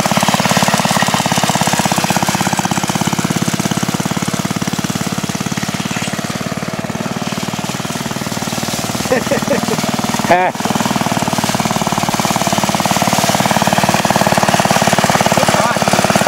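Antique moto-mower lawnmower engine running steadily close by, a loud rough chugging drone with a brief clank midway; voices talk over it at times.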